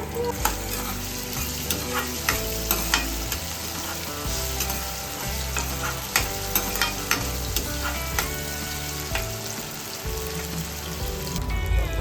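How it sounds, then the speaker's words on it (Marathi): Half a tomato sautéing in a pan of masala for a prawn curry, with a steady sizzle broken by repeated stirring scrapes and clatters; bright crackle runs throughout the clip with no talking. "आता आपण एक अर्धा टोमॅटो घेतलाय, तो सुद्धा टाकणार आहे याच्यामध्ये. तो पण थोडासा परतवून घेऊया."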